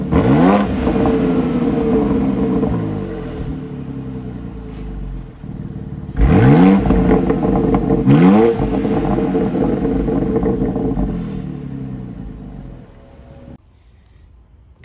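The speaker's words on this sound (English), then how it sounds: "why don't we take a listen to the exhaust sound of the X3M" A BMW X3M exhaust revs hard twice, rising to a loud bark each time, then settles into a burbling idle before cutting off.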